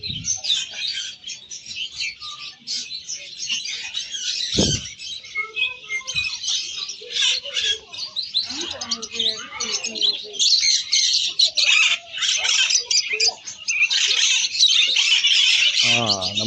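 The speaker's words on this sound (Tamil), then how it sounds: "Birds market." Many birds in a bird market chirp and squawk busily and continuously at close range. Someone talks intermittently over the chatter.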